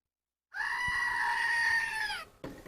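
A goat bleat sound effect, one long loud nasal cry held for nearly two seconds, then a short rougher tail after a brief gap.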